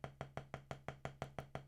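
Evenly spaced drum strokes played with a wrist motion, about ten in under two seconds, each a close, crisp hit with a short ringing tone and quick decay, steady and unaccompanied.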